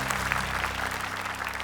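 Short round of audience applause for a woman on stage, quick scattered clapping from a crowd over a steady low hum in the room.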